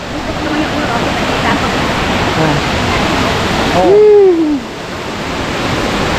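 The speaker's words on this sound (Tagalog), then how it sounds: "Ayan, may mini falls." A small waterfall outdoors gives a steady, loud rush of falling water throughout, with a brief voice cutting in briefly near the end.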